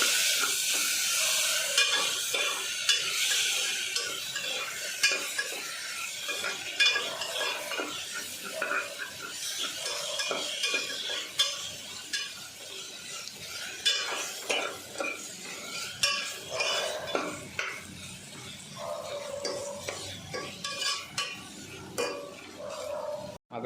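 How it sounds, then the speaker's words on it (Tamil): Tomato, coriander and green chili stirred in a pan for goat trotter soup, a steady scraping and clinking of a spoon with soft sizzling underneath, close and continuous for the whole stretch with no talk. "சேர்த்து 1 நிமிஷம் மிக்ஸ் பண்ணிக்கலாம்."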